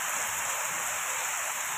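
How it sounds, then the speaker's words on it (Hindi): Heavy rain falls with strong wind and hail, making a dense, steady hiss of downpour that fills the scene evenly at moderate volume, with no voices. "हवा चल के साथ बारिश हो रही है"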